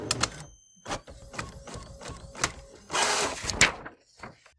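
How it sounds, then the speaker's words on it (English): A printer prints an N-652 form in a citizenship interview office, giving a close series of irregular mechanical clicks and whirring bursts, with one longer grinding run near the end. "The printer will print out the N-652 form to indicate you've passed the interview."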